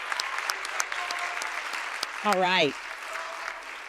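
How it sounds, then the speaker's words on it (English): Audience applause at a university event, a continuous dense clapping of a large crowd heard throughout, with someone speaking briefly over it. "a big round of applause"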